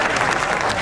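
A comedy show audience on Ethiopian TV in Addis Ababa breaks into a brief, dense burst of applause, a close and loud wash of hand claps.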